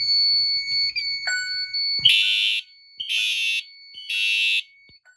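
Fire alarm sounding during a fire alarm system test: three loud, piercing electronic blasts in a steady rhythm, close by, following a faint high tone and a few clicks.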